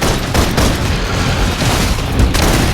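Sustained suppressive gunfire in the video game Love and Deepspace, a dense continuous barrage of loud shots and booms with heavy low-end rumble throughout, no pauses between bursts.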